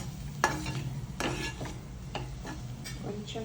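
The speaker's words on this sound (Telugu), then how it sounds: "అన్నీ ఒకసారి కలిపేసేస్తాను." Bitter gourd frying in a pan while being stirred, with a steady low sizzle under repeated scraping strokes of a utensil against the pan, about five distinct stirs, close and clear with no talking.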